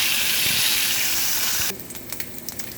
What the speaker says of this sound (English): I'll put y'all on pause while I cook this bacon